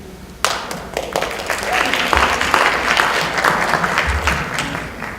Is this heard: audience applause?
yes